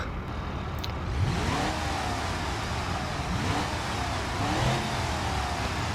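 Car engines, including a Spritz GTM 3-liter V8 and a louder 5.1-liter Moonhawk, drone and rev in rising, falling sweeps in BeamNG, a steady mechanical roar with pitch climbing through several gear shifts.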